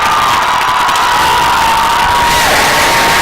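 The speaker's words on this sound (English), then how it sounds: "Jack Fitzgerald comes down to celebrate in front of the home crowd" Home crowd at a varsity high school hockey game roaring after a power-play goal ties the score, loud sustained cheering and whooping with a horn-like tone running beneath, continuous and close.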